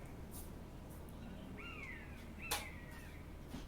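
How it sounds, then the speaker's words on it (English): A short chirping bird call from a game soundtrack, played during a tabletop Dungeons & Dragons session, with two or three faint rising squeaks over low background hum and a soft click. "I think it was a bird."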